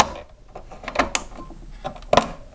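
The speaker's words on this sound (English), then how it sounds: "I'm going to push these in the back until they snap in place." Plastic posts are pushed into a Roland GR-100 or GR-300 guitar synthesizer during repair and snap into place, giving a few sharp close clicks over a faint background of handling noise.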